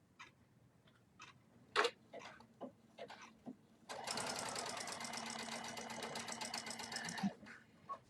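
A sewing machine doing free-motion quilting stitches in a few short bursts, then runs steadily for about three seconds with a fast, even mechanical rattle before stopping.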